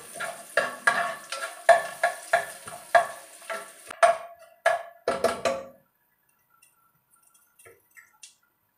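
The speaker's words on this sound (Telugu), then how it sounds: "పోపు దినుసుల్ని ఒకసారి మనం కొంచెం ఫ్రై చేద్దామండి," Tempering spices fry in a pan and are stirred, producing a rhythmic series of scraping, sizzling strokes that are fairly close. The strokes stop partway through and leave a few faint ticks.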